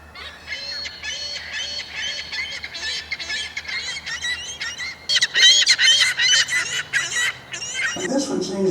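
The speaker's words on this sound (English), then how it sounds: "It was squawking. California gull." A California gull squawks in a rapid series of harsh, repeated calls, loud and close, growing more intense midway through, over faint background noise.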